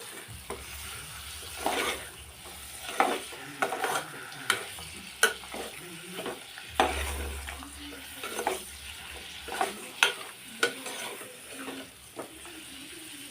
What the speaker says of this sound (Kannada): ಮಟನ್ ಹಾಕಿ ಚೆನ್ನಾಗಿ ತಿರುಗಿಸ್ಬೇಕು